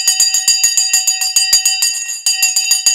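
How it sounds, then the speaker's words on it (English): Stock market opening bell ringing loud and fast, a continuous run of sharp metallic strikes lasting the whole stretch with no voices over it. "The bell has gone."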